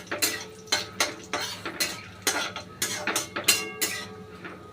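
Chopped coconut being stirred in a pan for vegetarian ghugni, a series of regular sharp metal spoon scrapes and clinks against the pan, roughly every half second, over a soft frying hiss.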